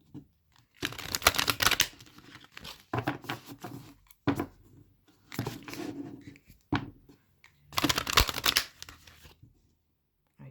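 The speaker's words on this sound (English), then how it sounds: "So bear with me whilst I shuffle." Several bursts of crisp riffling and snapping as cards, likely tarot cards, are shuffled close up, separated by short pauses, with no talking.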